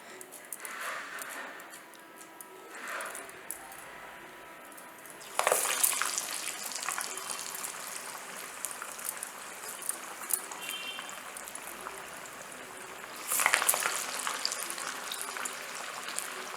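A second batch of toor dal vada dropped into hot oil, a steady crackling sizzle with two louder surges as pieces go in, mid-distance and moderately loud, with no talk.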